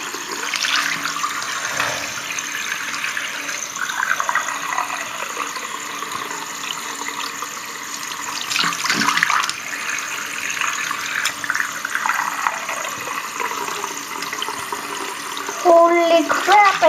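Tap water runs steadily over frozen fish to thaw it in a sink, a continuous splashing rush lasting throughout with small clatters near the end.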